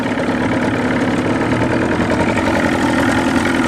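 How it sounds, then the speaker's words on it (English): A boat motor idles steadily on the water with a low, even rumble and faint mechanical chatter, holding constant throughout with no voices. "So right now I'm just sort of idling."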